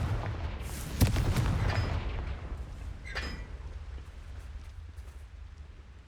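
In the Hogwarts Legacy video game, a Confringo fire spell goes off with a sudden muffled blast, then a short crackling, whooshing tail that fades into a low rumble. The whole sound is fairly quiet.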